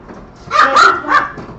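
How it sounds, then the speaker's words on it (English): A dog lets out a quick burst of two or three sharp, close barks at a kitchen ice machine as it dispenses ice, loud and alone with no talking. "don't bark at the ice machine"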